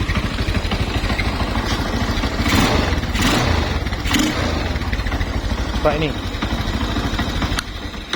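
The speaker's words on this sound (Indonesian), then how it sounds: "Mesin oke, halus." A 225cc motorcycle upgraded to a six-speed gearbox idles smoothly in a garage, a steady low rumbling pulse with a brief rev-like swell midway and someone speaking over it.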